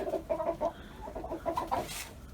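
Chickens clucking nearby at a rabbit hutch yard in a short series of soft, repeated calls, with no talking.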